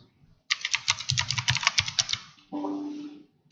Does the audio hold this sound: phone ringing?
no